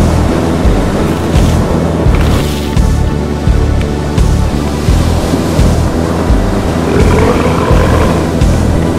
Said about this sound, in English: Ah, good waves.